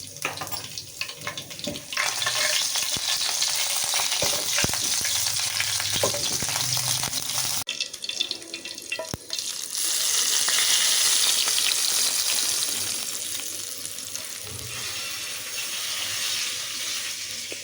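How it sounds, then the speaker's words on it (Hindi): Garlic browning in hot oil with cumin seeds and chili flakes for a tempering for a pumpkin and potato raita, a continuous bright crackling sizzle with several sharp spoon clinks and stirring, no talk. "और लहसुन को हल्का सा ब्राउन होने देते हैं।"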